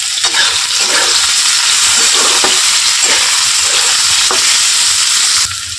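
Potatoes and green chillies fry in a pan and are stirred, making a loud, dense, continuous sizzle and hiss heard up close, with occasional soft stirring knocks underneath, easing slightly at the very end.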